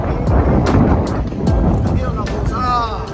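Strong gusty wind in Windsor buffets the microphone with broadband rumble, while a voice speaks intermittently beneath the blustery roar.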